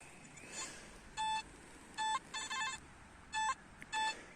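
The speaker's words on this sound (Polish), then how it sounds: "dzisiaj królują sygnały na monety współczesne" A modern metal detector beeps at a riverside while signalling on a modern coin: short, clean electronic tones in separate bursts, a few single and one double, with quiet outdoor background between them.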